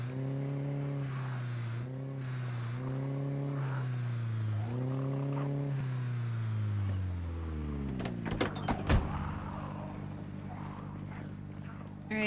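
A car backs up in the video game Project Zomboid. Its engine drones in repeated revving surges, then the pitch drops away, followed by a few sharp metallic clunks and softer rattling noises.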